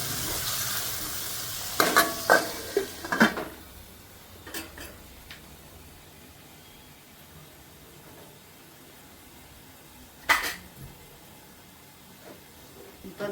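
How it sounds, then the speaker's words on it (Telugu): Bun dosa frying with cumin under a lid, soft steady sizzle after a burst of clatter and scraping as the lid goes on, then a few later knocks, close and quiet without speech. "ఇప్పుడు ఈ మూత పెట్టుకొని బాగా ఫ్రై చేసుకుందాం."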